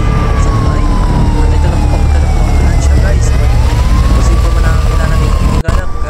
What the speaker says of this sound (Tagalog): Pare, andyan na yung ambulansya.